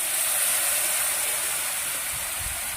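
Half a spoon of turmeric and a splash of water hit a frying onion masala over medium heat, giving a loud, even, steam-like hiss that stays steady for the whole stretch with no talking.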